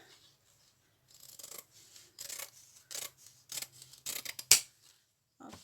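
Scissors snip through paper for a handmade junk journal, several short close cuts in an irregular rhythm with quiet pauses between, ending on a sharper final snip.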